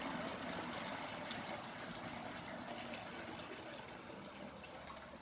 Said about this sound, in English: pour the steeping liquid